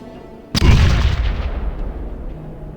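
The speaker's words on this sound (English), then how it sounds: "Grenade!" A grenade in Fallout Tactics explodes with a sudden loud boom that rolls into a long, fading rumble over nearly two seconds, heard close and alone.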